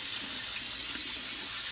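Tap water runs steadily into a bowl of rice being rinsed for yellow rice with peas, a constant soft hiss and splash with no talking.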